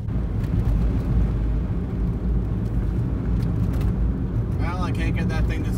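A car rolls along a gravel road just off the David Thompson Highway on the way to Cadomin, a steady loud rumble of engine and tires throughout, with a person talking near the end.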